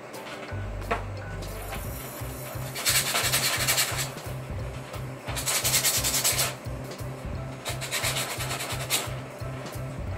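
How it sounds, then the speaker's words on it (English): Hand sanding of burrs on a wooden mechanical combination lock puzzle part with 240 grit sandpaper: close, steady back-and-forth rubbing strokes in a quick rhythm, with several harsher scratchy passes, and no talking. "that's why we have the sandpaper, just to smooth those out. And this is 240 grit"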